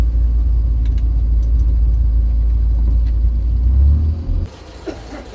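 Engine of a barn-find Vauxhall Viva running with the clutch pressed in, a loud, steady low rumble and grinding drone close by that cuts off abruptly near the end, leaving quieter noise.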